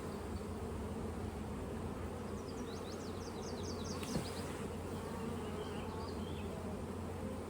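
A dense, steady drone of many honey bees buzzing close up on a hive frame of brood, continuous and even throughout with no voices.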